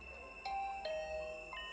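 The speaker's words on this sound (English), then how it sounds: "My heart did a somersault when the doorbell suddenly rang." A video game doorbell rings suddenly late at night, with a couple of quick chiming tones over a faint electronic hum, moderately soft and with no talking.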